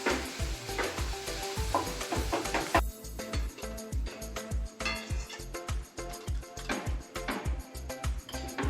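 Tomatoes frying in a pan and being stirred, heard as a steady sizzle with quick rhythmic scraping strokes under what sounds like background music, fairly close and even in level.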